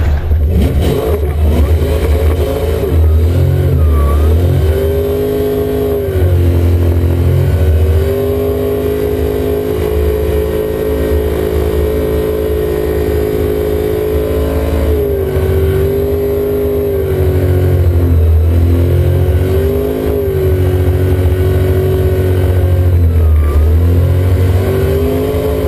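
BMW drift car with nearly 1000 horsepower, its engine loud and close throughout, rising and falling in repeated revs over a constant heavy rumble, with no talking.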